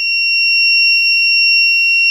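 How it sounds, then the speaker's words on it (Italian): A tester's electronic beep signalling a short circuit while testing a five-wire air conditioner fan simulator holds one continuous high tone for about two seconds, loud and close, with no voices. "possiamo sentire il beep che sta a significare il corto"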